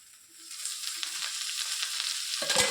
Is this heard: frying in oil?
yes